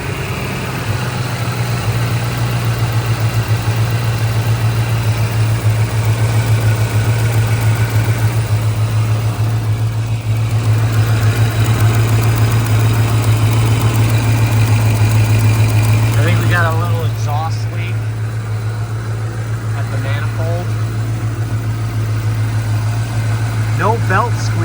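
A 1995 Ford Mustang GTS engine idling after a battery disconnect during serpentine belt repair, a loud, steady low rumble running close and unbroken throughout, with a brief voice and faint chirps near the end.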